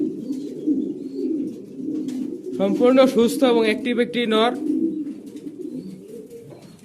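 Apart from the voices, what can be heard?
male Blue Bar Beauty Homer pigeon cooing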